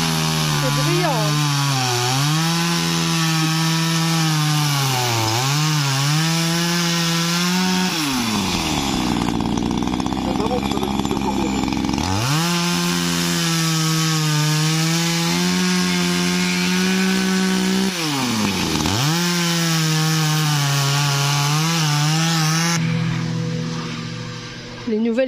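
A chainsaw with a badly worn, burnt chain cuts through wood, its engine loud and close, dipping in pitch as it bites into the cut and revving back up between passes, running almost without pause.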